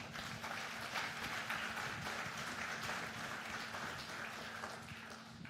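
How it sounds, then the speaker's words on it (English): An audience gives a round of applause, a continuous patter of many hands clapping at moderate distance, steady throughout and tapering a little at the close. "Let's give them a round of applause."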